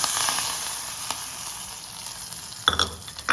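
Hot mustard-seed tempering in coconut oil is poured over curry leaves on a vegetable aviyal, giving a close sizzling hiss that fades, followed by a couple of sharp metallic clinks near the end.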